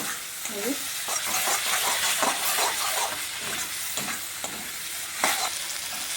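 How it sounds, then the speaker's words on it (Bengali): Spice paste for jackfruit kalia fries in hot oil in a pan with a steady sizzle, while a spoon scrapes and stirs it in repeated strokes, close up and without talk. "যেহেতু আমি ইঁচড়ে কালিয়া করছি, একটু ভালো সুন্দর করে মশলাটা ভেজে নিচ্ছি।"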